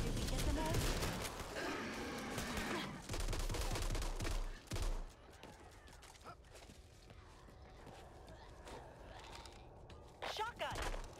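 Shotgun blasts in the zombie shooter Back 4 Blood, a dense burst of heavy booming shots at first, then sparser scattered shots and impacts, with players talking over the action.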